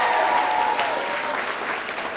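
An audience at a school fashion-show seminar claps loudly and steadily for a band, a thick continuous wash of applause throughout the brief moment.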